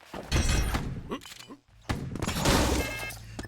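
A grenade detonating during a DOOMBRINGER duel: sharp, loud blasts and thuds, a brief near-silent gap, then another burst and a crackling roar, with excited commentary over it.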